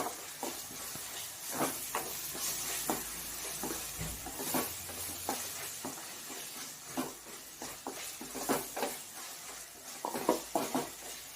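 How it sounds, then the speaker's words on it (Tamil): Ginger garlic paste sizzles in a hot pan during sautéing for a potato and green pea gravy, a steady frying hiss broken by repeated scraping stirs of a spoon, close and fairly loud, with no talking. "இஞ்சி பூண்டு நல்லா வதங்கிடுச்சு."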